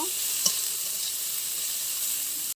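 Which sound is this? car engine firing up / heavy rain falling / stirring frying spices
stirring frying spices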